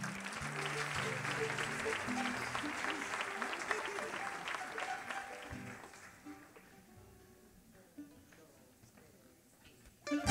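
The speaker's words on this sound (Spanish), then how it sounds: "Ese aplauso." Audience at a gathering of folk singers claps in a faint, distant wave that gradually dies away amid background music and murmur.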